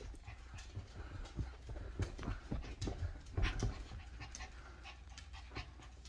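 A small rescue dog pants quickly and steadily close by, rhythmic breathy huffs with a few soft clicks of movement, fairly quiet and with no talking.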